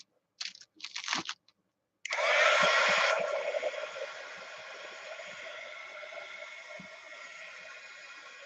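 After a few brief clicks, a hair dryer starts up on fabric with a loud rush, then settles into a steady, softer blowing hiss that continues to the end without speech.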